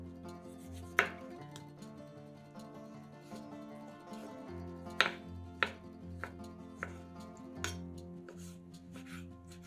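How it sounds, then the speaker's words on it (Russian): Knife chopping two or three tomatoes on a board, first into slices and then into cubes, with a few sharp, separate cuts amid quieter tapping, close and alone. "2-3 помидора нарезаем сначала пластинками, а затем кубиками."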